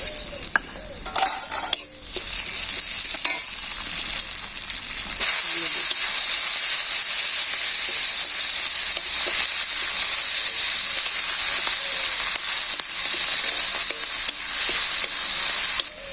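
Fish dropped into a hot pan in a village kitchen set off a loud, steady sizzle that keeps going, after a few seconds of utensil clatter and handling noise.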